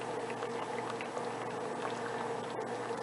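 Steady low bubbling and gentle churning of water simmering, a continuous soft liquid texture with no talking.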